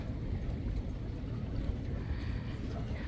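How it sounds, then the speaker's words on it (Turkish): A sailboat moves away from a marina, its low steady engine rumble and water wash continuous and moderately distant with no voices. "Ve Aylin teknesi de gitti."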